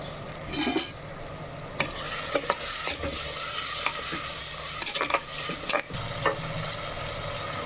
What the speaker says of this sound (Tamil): கத்திரிக்காய் சேர்த்து ஒரு நிமிஷம் நல்லா வதங்கிட்டு